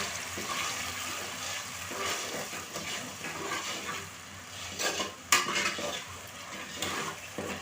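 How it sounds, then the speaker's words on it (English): Vegetable soup ingredients, with tomatoes and pepper, stirred in a pot of hot oil, giving a continuous close sizzle and frying hiss with scraping, clinking stirs and a sharp utensil knock near the middle. "This is the oil. You go in with it. Then you stir."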